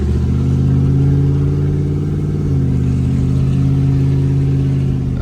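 An LS-swapped Chevy S-10 pickup's V8 runs steadily and loudly up close, a deep rumbling drone with a slight shift in pitch midway, no talking over it.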